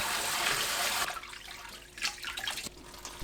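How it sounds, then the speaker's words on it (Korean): Cold tap water rushes loudly over blanched mung bean sprouts for about a second, then stops, leaving softer splashing and dripping as the sprouts are rinsed. "찬물에 헹굽니다."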